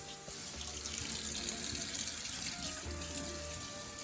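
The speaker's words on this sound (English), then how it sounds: "Just rinse it a bit." Tap water running steadily over an Aeropress coffee maker part being rinsed in a sink, a continuous close hiss and splash with small shifts in the flow.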